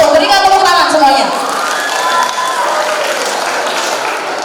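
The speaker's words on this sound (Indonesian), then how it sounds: "Berikan tepuk tangan semuanya." Students cheer, shout and applaud at a high school student council candidates' oration at SMAN 1 Tegaldlimo. The burst is loud and dense at first, then settles into a steady crowd roar.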